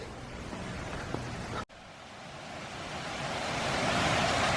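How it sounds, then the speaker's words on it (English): High Tower Waterfall flowing, a broad steady rush of falling water heard outdoors, with a brief cut midway before the roar returns and grows gradually louder and closer. "And here we are, High Tower Waterfall."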